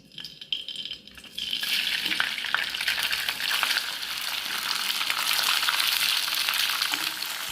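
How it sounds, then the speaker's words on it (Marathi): Cloves, cumin and bay leaf hit hot oil for a tempering. A loud, steady sizzle starts abruptly after about a second and continues with stirring scrapes throughout. "लवंग आणि जिरं याची फोडणी देऊन राहिले."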